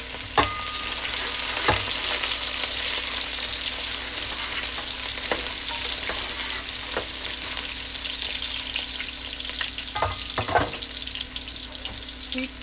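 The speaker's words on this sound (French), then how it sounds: "Là mon huile est bien chauffée, je mets l'oignon." Onion hits well-heated oil for a sautéed spinach and pistachio dish, setting off a loud, continuous hiss of frying nearby. A few clacks of a utensil against the pan cut through, and there is no talk.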